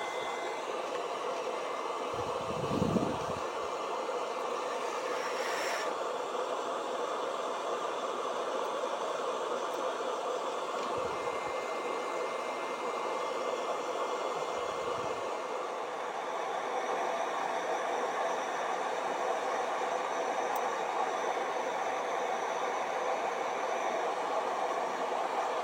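A chip on a Sony television board being heated gradually for desoldering, a steady even hiss that runs unbroken with a few soft low thumps.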